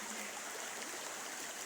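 Fast river water rushing steadily over stones, a broad continuous hiss and roar with no breaks, fairly near and alone without voices.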